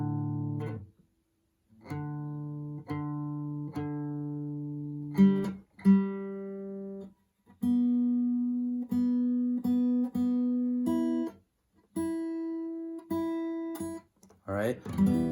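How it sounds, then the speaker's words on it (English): Six open guitar strings in standard tuning sounded one after another, each a clear plucked note ringing and decaying alone, from low to high, with a brief slide or noise at the end. "First, you need to make sure your guitar is in standard tuning,"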